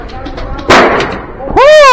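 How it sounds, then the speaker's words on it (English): An airsoft grenade goes off during an indoor arena game, one sharp loud burst in the middle of the clip, followed by excited voices shouting close by. "What was that? Grenade."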